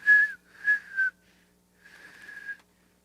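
A person whistles in imitation of a parrot during a stage performance: three short chirping notes in quick succession, a pause, then a longer wavering whistle, all close and clear with no talking.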